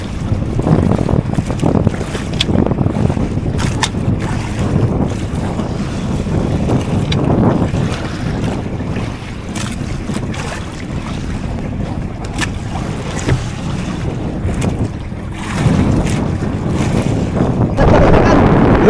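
Small motorboat heading into sea waves on a fishing trip, with a continuous low engine rumble, wind buffeting the microphone and intermittent splashes and slaps of water against the hull.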